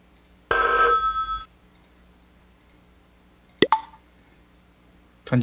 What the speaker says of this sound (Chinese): 突然间电话打过来